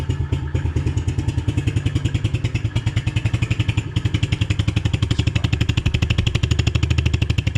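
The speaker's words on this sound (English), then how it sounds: "First start on the 2020 TTR 110. Let's turn the choke on. Oh yeah, fires right up." A 2020 TTR 110 pit bike's small single-cylinder engine putters at a fast, even idle after starting with the choke on, its rapid pulsing beat loud and close throughout.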